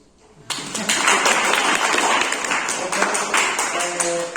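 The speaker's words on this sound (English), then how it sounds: "Applause, please." Audience applause for a debate team being introduced, a dense burst of clapping that starts abruptly and carries on steadily at close range.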